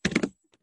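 A quick run of three or four crisp keystrokes on a computer keyboard while working in Epson Garment Creator software, close and clear, followed by a pause and a faint stray tap.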